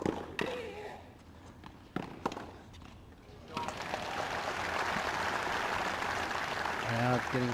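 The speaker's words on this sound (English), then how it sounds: "Crowd getting something to cheer about" Crowd at a women's tennis match in Hobart cheering and applauding, the noise swelling from a quiet, sparse start into a sustained broad roar of clapping that carries to the end.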